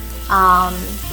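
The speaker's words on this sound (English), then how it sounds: "Then it is time to brown and add my andouille." Andouille sausage hits a hot pan and starts browning with a sudden loud sizzle that swells briefly, then settles into a quieter frying hiss.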